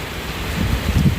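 Rain falls on a house during an all-day storm, a steady wash of patter with some low rustling and gusty wind-like rumble, fairly close and with no talking.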